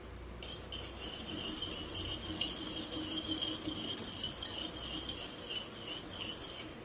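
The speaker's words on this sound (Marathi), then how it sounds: "अंडी आपण थोडेसे फेटून घ्यायचे।" Eggs being whisked for a banana cake batter, a steady continuous scraping and tapping of utensil against a bowl, close and fairly even throughout with no talking.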